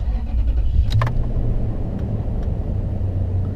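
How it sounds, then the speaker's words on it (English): A 2000-2006 Toyota Tundra engine starts after an alternator and serpentine belt replacement: a short cranking burst near the start, then a steady, close, low idle rumble with no talking. "Start the car."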